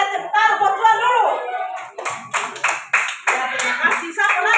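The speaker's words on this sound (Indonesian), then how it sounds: "Jawaban benar, tepuk tangan buat Juan dulu." Children in a classroom break into clapping after a teacher's voice, a burst of fairly quick, uneven hand claps that follows brief speech and continues to the end.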